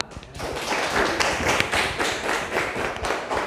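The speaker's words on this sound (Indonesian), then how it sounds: "Berikan aplaus dulu untuk Ila." Classroom applause for a student, several people clapping together in a dense, continuous patter that lasts a few seconds in a room.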